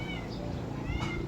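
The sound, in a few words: cat meowing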